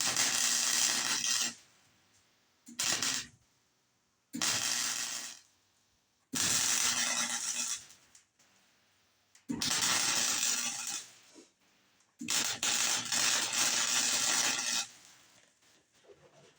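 Welding on a heat-warped metal car panel: five bursts of loud, close, crackling buzz, each lasting one to three seconds, separated by short silences.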